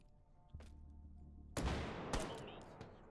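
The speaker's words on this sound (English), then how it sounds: "We're gonna shoot one shot and drop it." A lone loud pistol shot cracks out close by, following a faint earlier knock, and a few lighter impacts trail off after the blast.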